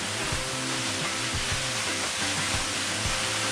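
Anryu Falls near Nikko, a small waterfall in winter among ice and snow, pours with a steady, close rushing hiss of falling water that never lets up.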